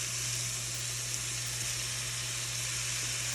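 Sausage crumbles, onion and pepper fry in a hot pan with a steady, even sizzle and hiss that holds close and constant, with a low hum underneath and no talking.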